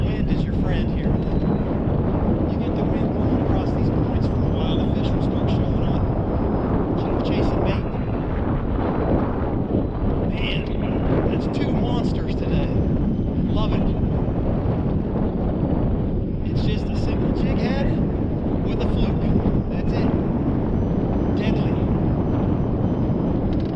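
Steady wind blowing across Lake Lanier, a continuous loud rushing roar buffeting the microphone throughout, with a voice speaking intermittently over it.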